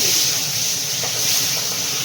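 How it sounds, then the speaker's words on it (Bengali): Fish heads frying in hot oil in a wok give off a steady, close hiss of sizzling oil, even and continuous for a brief moment with no voices. "তেলটা গরম হলে আগে মাছের মাথাটা ভেজে নেব"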